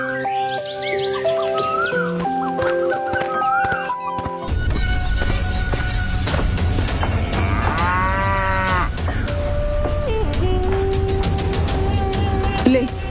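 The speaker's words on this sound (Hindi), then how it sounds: "गौरी जब भी घास चरकर आती तो रंभाते हुए भगवान को याद करती" Gauri the cow lows after coming back from grazing, her moos rising through a dense, busy layer of music and other sounds that runs the whole time.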